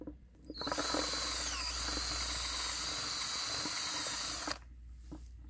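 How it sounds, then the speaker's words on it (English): A power drill boring into soil whirs at high speed for a few seconds with a gritty, grinding edge, then cuts off abruptly into quiet. "So I'll drill just down to the top of that collar."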